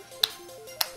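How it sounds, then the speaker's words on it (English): Two sharp, close hand claps about half a second apart, crisp and bright, over a low background hum. "I'm gonna clap"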